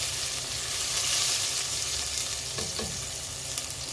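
Garlic frying in reused cooking oil in a pan, a steady loud sizzle with a hiss and crackle, broken by a couple of scraping stirs near the end.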